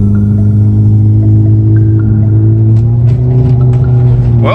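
A car fitted with new snow tires drives over slushy, melting snow, its engine a loud steady hum with rising tones as it accelerates, close up and without talking.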